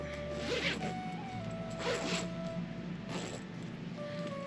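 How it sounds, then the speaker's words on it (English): A zipper is pulled open in a few short, close rasping strokes over a quiet background. "we can open the zipper up"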